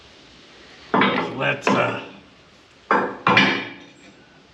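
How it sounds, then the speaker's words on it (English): Hammer smacks against the front of a car's lower control arm near its nut: four sharp metallic strikes in two close pairs, loud and ringing, with a short spoken word between them. "take the nut off the front of the lower control arm, give that a few smacks"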